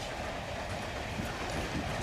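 A train rolling steadily along the rails, a continuous close rumble with a rhythmic clickety-clack running throughout, with no voices over it.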